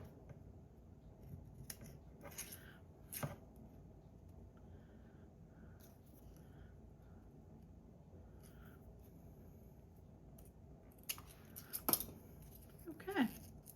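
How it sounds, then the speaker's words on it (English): Scissors cutting a sheet of 6x12-inch paper in half for a folded pocket craft, a few sharp snips and rustles spread through a quiet room, with a louder cluster of cuts near the end. "I'm going to use this one and cut it in half"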